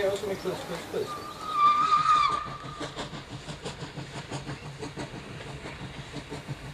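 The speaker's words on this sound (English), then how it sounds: "A flower and flag decorated train takes the guests to a halt close to the church." A steam train runs on rails with a steady, rhythmic clickety-clack, a brief whistle-like tone early on, and a voice talking over the rolling sound.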